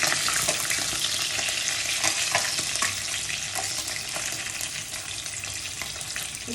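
Koi fish fries in oil with ground cumin, dry red chili and ginger for a Bengali tel koi, producing a loud, steady sizzle with fine popping crackles throughout.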